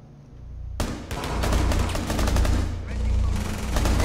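Rapid gunfire erupts in Rainbow Six Siege on the Tower map, a sudden burst of loud, close shots rattling in quick succession for several seconds.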